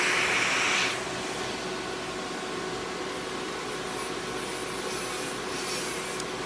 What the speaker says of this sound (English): I'm using a zebra sanding band